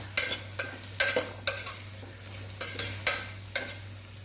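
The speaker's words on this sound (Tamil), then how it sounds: "இதை வந்து ஒரு நிமிஷத்துக்கு நல்லா வதக்கிக்கலாம்." Vegetables for biryani being sautéed in a pan, a spoon scraping and stirring in regular strokes about every half second over a steady low hum, close and fairly loud.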